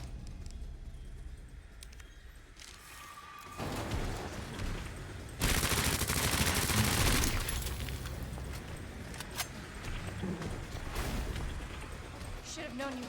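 Gunshots in the Resident Evil 2 Remake video game ring out as a dense, loud burst of rapid gunfire in the middle, with sparser shots and game noise around it and a person talking over parts of it.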